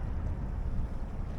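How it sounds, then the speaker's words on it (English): A sailboat under sail with its engine off, heard as a steady low rush of wind buffeting the microphone and faint water noise, no voices. "So there we go, under sail finally. The engine is off."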